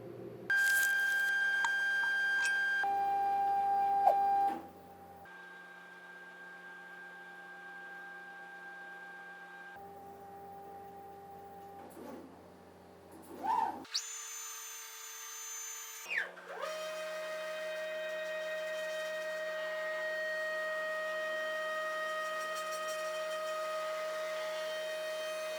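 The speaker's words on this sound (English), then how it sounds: "So you just saw the printer home" A large-format 3D printer homes and auto-squares its axes: steady electronic hum, stepper motors whining at shifting pitches in several separate moves, brief beeps, then a longer sustained motor tone, with no one talking.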